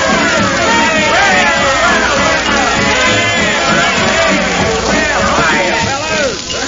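Party crowd chatter fills a parlor in an old-time radio comedy, a dense, steady babble of many overlapping voices close by, continuous throughout over a scratchy recording.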